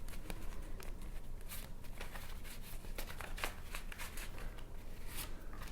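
Tarot cards shuffled by hand in a steady run of crisp, riffling flutters, close and fairly quiet, with no voices over them.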